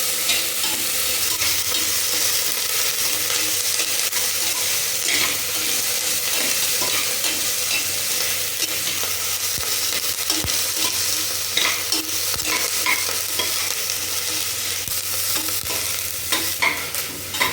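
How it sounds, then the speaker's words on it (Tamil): Chopped onions sautéing in a pan with chillies for a kovakkai (ivy gourd) fry, stirred steadily with a constant, fairly loud sizzle and occasional scraping clicks of the spoon throughout. "வெங்காயம் நல்லா வதங்கிட்டு அப்புறம் தக்காளி போட்டுக்கலாம்."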